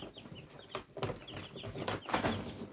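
Eight-day-old baby chicks peep in rapid, repeated high chirps over soft rustling, steady and moderately close.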